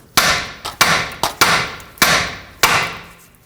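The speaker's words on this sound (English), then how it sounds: "Now tap the side of the knuckle here. That should pop the tie rod free from the knuckle." A hammer strikes the steering knuckle of a 2012-2017 Toyota Camry to knock the outer tie rod loose: about six sharp, loud, close metallic blows at uneven intervals, each ringing out briefly, with no talking.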